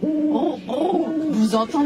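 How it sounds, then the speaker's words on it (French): An owl hoots in short, soft, wavering calls in a multisensory activity space for small children, with an adult speaking over the sound. "Le hibou?"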